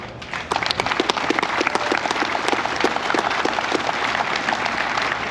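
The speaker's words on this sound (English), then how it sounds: "Big round of applause for them." Applause from the audience at a Tri Five Nationals car show awards, crisp individual claps standing out over a steady crowd patter, starting abruptly and continuing evenly.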